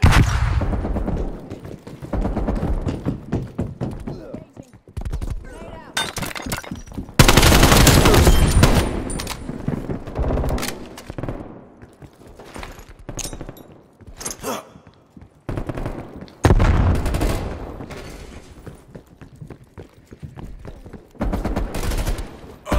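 Gunfire in the video game Call of Duty: Black Ops Cold War comes as loud automatic bursts and heavy volleys separated by short lulls, with in-game voices calling out between the shots.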